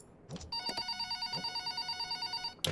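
Telephone ringing in the video game Five Nights at Wario's, a steady electronic ring with evenly pulsing tones lasting over two seconds, bracketed by brief clicks at start and end.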